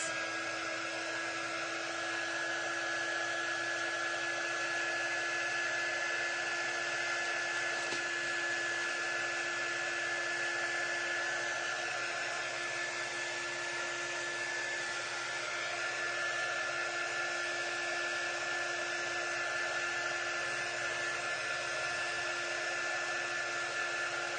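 A hair dryer blows continuously over a painted craft project, a steady close whooshing roar with a constant whine that never changes.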